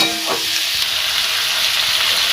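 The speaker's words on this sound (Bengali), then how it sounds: "পেঁয়াজ টমেটো একটু ভেজে নেব" Onion and tomato fry loudly in a pan for an egg curry, a bright, steady, close sizzle with light stirring and no speech.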